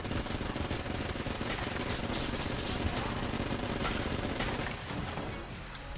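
A Vulcan cannon with triple shot firing in Enter the Gungeon, a relentless rapid stream of loud gunfire that pounds on continuously, easing slightly near the end, with a sharp blip at the close and no talk.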